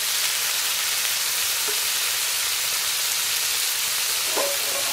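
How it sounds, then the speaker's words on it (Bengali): A steady, even sizzle of skewered beef kathi kebabs frying in a pan, continuous throughout with no talking. "এভাবে ঘুরায় ঘুরায় ভাজতে হবে কাবাবগুলোকে, যেন ভালো মতো লাল হয়।"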